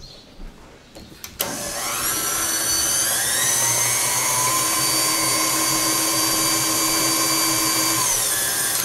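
An electric mixer beating vanilla cake batter starts abruptly after a quiet moment and then runs steadily with a loud, constant whir that holds through to the end.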